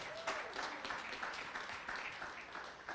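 Audience applause in a hall at a Stark Tank school event, a dense, moderately distant wash of many hands clapping that holds steady for a few seconds.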